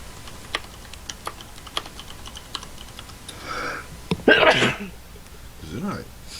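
A single sharp sneeze from a person nearby, following a run of computer keyboard typing clicks, with a short voice afterward.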